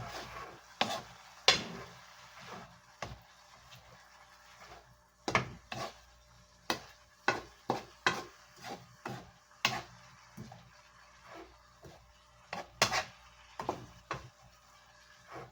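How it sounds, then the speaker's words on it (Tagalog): Repeated stirring of labong (bamboo shoots) in a cooking pot with a little broth left, heard as irregular sharp knocks and scrapes of a utensil against the pot, close and fairly loud, with short pauses between strokes. "Haluin na natin."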